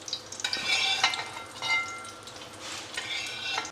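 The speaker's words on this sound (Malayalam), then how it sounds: "ഇതെല്ലാം നമ്മൾ നെയ്ക്കകത്താണ് വറുത്തെടുക്കേണ്ടത്" Nuts fry in hot ghee, a close crackling sizzle broken by light metallic clinks and scrapes of a spoon stirring in the pan.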